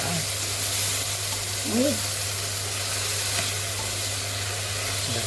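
Food frying in a pan gives a steady, close hiss of sizzling oil throughout, and a voice briefly says a short word partway through.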